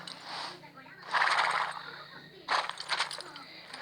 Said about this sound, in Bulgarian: Какви коне!